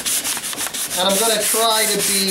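Sandpaper of 180 grit rubbing back and forth over guitar body wood during pore-fill and finish preparation, a close, steady scratchy rasp with a voice speaking over it.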